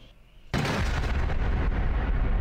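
Cannon fire in a Warhammer video game scene: a sudden loud blast after half a second of quiet, followed by a sustained rumbling roar that stays heavy to the end.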